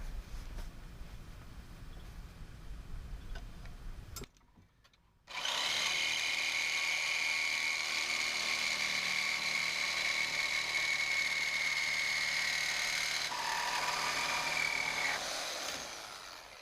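Power tool cutting parts on a racing go-kart during a conversion: a brief whirring run, a short pause, then a long, loud, steady high-pitched cutting whine that eases off near the end, close by with no talking.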